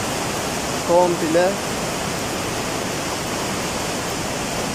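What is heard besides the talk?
rushing creek water after heavy rains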